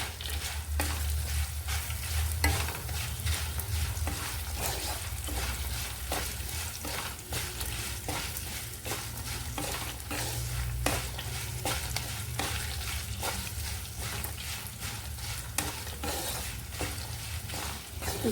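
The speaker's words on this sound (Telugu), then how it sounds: "ఇవి లో ఫ్లేమ్లో వేగాలండి, అప్పుడే బాగుంటాయి. వేగిపోయిందండి తిరగమాత" A tadka of seasoning frying over low flame for pindi pulihora sizzles steadily while a spoon stirs and scrapes the pan in repeated strokes, close and continuous.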